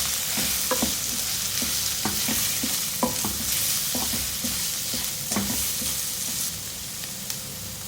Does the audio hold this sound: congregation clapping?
no